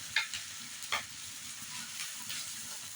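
Crushed ginger, garlic and curry leaves fry in coconut oil with a soft continuous sizzle and a couple of sharp pops near the start, quiet and close with no talking.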